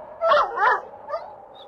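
A big dog barks twice in quick succession, close and clear, then gives a softer short yip as an audiobook sound effect, with no talk over it.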